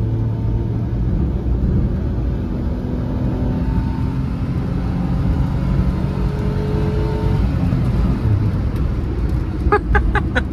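A diesel Chevrolet Beat and a Hyundai Eon drag racing: a steady loud engine drone and road rumble, with engine tones shifting as the cars accelerate and clicking noises near the end.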